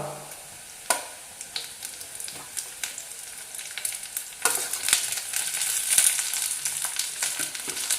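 Steady sizzling of vegetables frying in a pan for prawn curry, with occasional clicks and stirring scrapes, growing louder and busier about halfway through.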